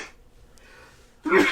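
A quiet pause broken by one sudden, sharp sneeze at the end, close and loud.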